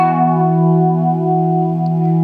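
Electric guitar plays a sustained harmony note from a song's riff, a steady ringing tone with a light effects sheen, heard alone.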